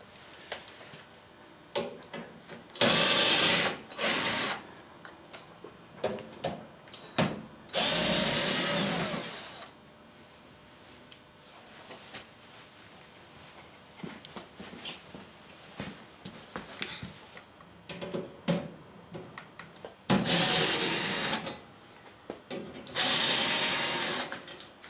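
A power screwdriver with a Torx bit backs screws out of the kick plate on a Whirlpool Diplomat dishwasher, several loud close whirring bursts of a few seconds each, with clicks and handling noise between them.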